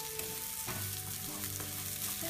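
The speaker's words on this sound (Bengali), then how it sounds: "চালটা এখন ভাজি করবো।" Raw rice frying in oil for polao, a soft steady sizzle with light stirring scrapes, close and fairly quiet, no talk.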